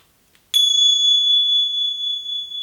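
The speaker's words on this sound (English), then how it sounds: "You find these bells, very high-pitched, high-frequency bells." A very high-pitched bell used for space clearing rings out suddenly and alone, holding a pure, sustained tone that slowly fades over a couple of seconds with a faint shimmering pulse.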